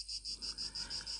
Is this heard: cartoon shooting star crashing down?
no